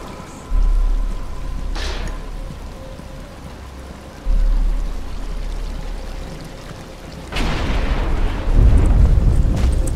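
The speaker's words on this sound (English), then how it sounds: "But it's starting to rain." Rain begins in the video game Batman: Arkham Asylum, heard as a steady hiss over low rumbling, building in bursts and thickening into a heavier downpour toward the end, with no speech.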